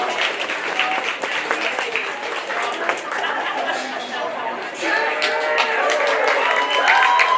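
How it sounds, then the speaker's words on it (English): Audience at a county fair sheep show applauds, a dense steady clapping that swells toward the end, with crowd chatter and a voice over it. "let's give these exhibitors one last huge round of applause"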